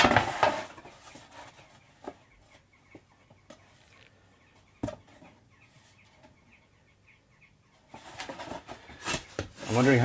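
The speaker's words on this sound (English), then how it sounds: "I'm wondering how much they can hear the birds in the background." Birds chirp and cluck faintly in the background, including a chicken-like call, with intermittent knocks and handling noises, while a person talks at the start and end.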